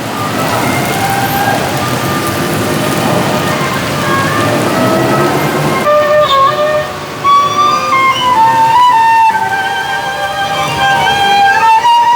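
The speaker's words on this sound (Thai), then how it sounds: "เสียด้ยแต่วาฝนตก" Steady rain falls on a Bangkok street at night, a dense continuous hiss with traffic and city tones running through it, loud and close throughout.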